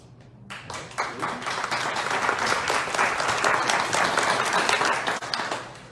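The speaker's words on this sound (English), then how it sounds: "I don't want to interrupt the applause very much." A crowd at a Greenville County Republican Party officer candidate forum breaks into loud, sustained applause that starts abruptly, holds steady for several seconds, then tapers off.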